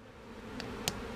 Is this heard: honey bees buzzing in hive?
yes